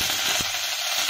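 Mustard seeds sizzle and spatter in hot oil for a tempering, a steady dense frying hiss with a few small pops, close and alone.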